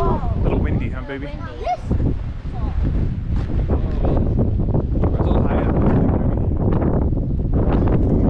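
Strong wind at a Mesa Verde canyon overlook buffets the microphone in a loud, constant roar, with people speaking briefly beneath the gusts.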